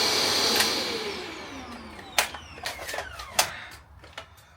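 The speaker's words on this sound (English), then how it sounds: "just bang it in, and we've got hoovering" A Hoover vacuum cleaner runs steadily inside a small micro camper van, a continuous whine with shifting pitch, punctuated by several sharp clattering bumps and knocks as the nozzle moves around close by.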